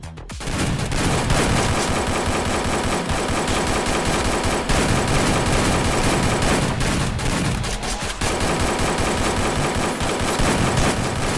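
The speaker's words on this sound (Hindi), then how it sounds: "तैयार हो सब? चलो शुरू करो फायरिंग।" Sustained automatic gunfire in a Free Fire video game training session, dense rapid bursts of shots that run almost unbroken with brief gaps, loud and close.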